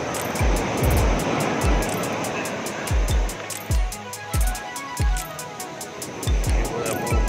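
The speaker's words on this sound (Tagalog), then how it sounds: "Grabe ang alon dito." Strong ocean surf breaking on a shore at dawn, heavy broadband wash with repeated surges, loud and close, while people talk intermittently over it.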